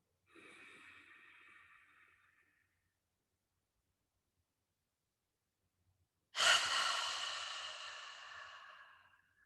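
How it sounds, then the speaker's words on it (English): Two slow, deep breaths during a breathing exercise, a soft airy exhale followed by a long pause of silence and then a louder, close, rushing breath through the nose. "hold for 2 counts, and exhale. So inhale."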